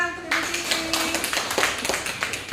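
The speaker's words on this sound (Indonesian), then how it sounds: "Berikan tepuk tangan untuk Ibu Fitri." A small group in a school session claps for a teacher with light, scattered hand claps and taps, close by and fairly quiet.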